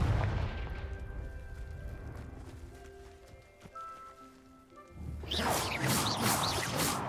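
A Confringo spell explosion in the Hogwarts Legacy video game erupts as a sudden loud, crackling blast partway through. It follows a stretch of quieter game ambience and tonal effects, and the noisy burst lingers to the end.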